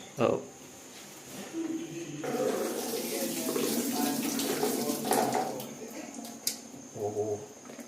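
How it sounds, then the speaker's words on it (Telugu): Water pours and gushes steadily for several seconds as it is drained from a pressure cooker, with a voice talking briefly at times. "ఇందులో వాటర్ ఉంది కదా, వాటర్ మొత్తం డ్రైన్ చేసుకోవాలి."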